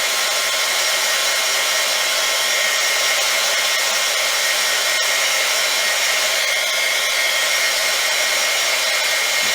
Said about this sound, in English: Don't let your embossing gun stay in one spot for too long.